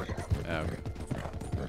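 Horse hooves clip-clop steadily in the western video game Red Dead Online, a brisk rhythmic trot running beneath continuous conversation.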